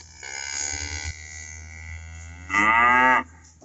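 Cattle moo nearby, one low drawn-out call followed after a pause by a louder, shorter moo, against a faint steady hum.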